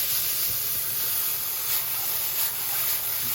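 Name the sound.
Romanesco sizzling in a hot oiled pan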